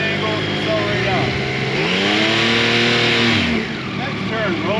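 A Yamaha motorcycle on a street ride accelerates out of a turn, its engine note climbing steeply in pitch with loud revving, easing briefly near the end, while someone talks over it.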